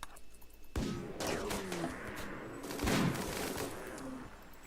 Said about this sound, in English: We've already peppered it with a ridiculous amount of firepower